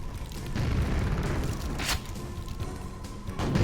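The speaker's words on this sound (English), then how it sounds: "Yeah, conventional grenade time." Grenade explosions rumble through tight corridors in Quake: Dissolution of Eternity, deep booming blasts with a rolling low-end tail and a sharp burst partway through, backed by game ambience.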